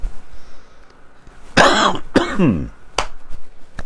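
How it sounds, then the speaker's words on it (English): A single person coughs sharply a few times in quick succession, close and loud, after a brief quiet moment. "I'm going to cough again"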